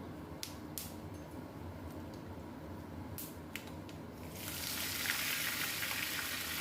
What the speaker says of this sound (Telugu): అది కొన్ని మంచి చిట్టపట్ట అంటుంది కరపాకు కూడా